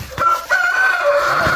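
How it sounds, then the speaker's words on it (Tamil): A rooster crows, a close, loud cock-a-doodle-doo with a sustained middle note that fills the short moment, with no talk over it. "கட்டி சேவல்."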